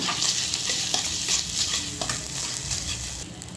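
Ginger-garlic paste is stirred in a hot pan. A close, steady sizzle runs under repeated scraping strokes of a spoon, and no one speaks.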